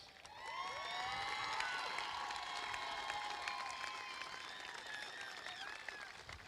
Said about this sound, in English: Give these people who are very important to you a big shout and a round of applause.